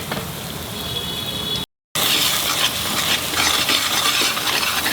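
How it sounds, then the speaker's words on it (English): Thick masala for a chicken roast curry frying and being stirred in a vessel, a steady loud sizzle with scraping and stirring noises, briefly cut off by a short silent gap before resuming. "I have to fry this masala till it leaves the sides of the vessel"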